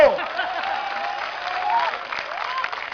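Crowd clapping at an outdoor election rally in Ahmedabad, a steady wash of applause that fills the whole stretch at moderate loudness, with some voices mixed in.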